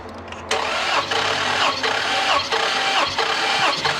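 A Ram TRX engine cranking on a dyno: a loud starter whirring in a steady rhythmic churn of repeated compression pulses, starting abruptly after a brief quiet moment and continuing without firing up.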